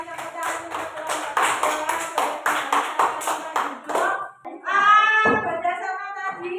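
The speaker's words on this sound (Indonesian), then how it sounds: "Berikan tepuk tangan untuk kelompok" Schoolchildren in a classroom clapping for a student group after a presentation, about four seconds of rhythmic, evenly spaced claps in unison, followed by a teacher speaking.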